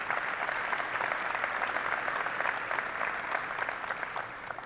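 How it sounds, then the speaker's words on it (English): Sustained applause from an audience at a college field house floor dedication, a dense, even clatter of many hands clapping continuously without pause, fairly close and loud, with no speech over it. "I just want to give them a round of applause real quick"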